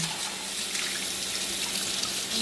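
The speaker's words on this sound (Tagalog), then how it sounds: "Maghuhugasan na natin yung basmati na bigas." Basmati rice is washed under running water in a kitchen, giving a steady close hiss of flowing water with faint swishing. No one speaks.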